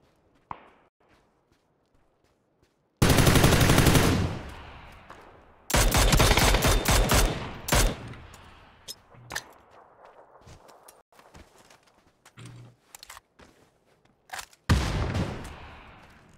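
Loud bursts of rapid gunfire come in a few sustained volleys, separated by quieter stretches of scattered shots and footsteps, with no talking.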